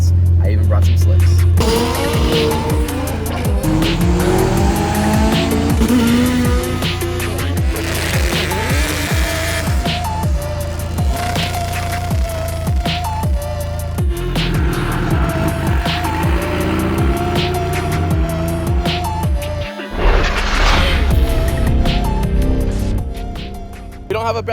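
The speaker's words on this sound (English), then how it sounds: "Some of the guys came out here today to race their cars" Race cars run at the Orlando Speed World track, where a Honda Integra with a K24 engine on slicks is among them, giving loud engine revving, passing whooshes and tire squeal, with people talking over the noise.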